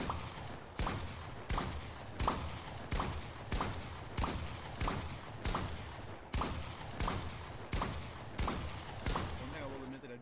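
Shotgun blasts in Fortnite obstacle mode, about a dozen loud booming shots fired at a steady pace roughly every 0.7 seconds, over a constant dense game background.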